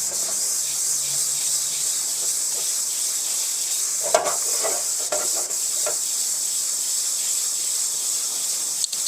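A steady hiss of a hot, rusty iron wok with scraping and clinking as it is stirred around to remove rust, closer scrapes clustering midway; no talking.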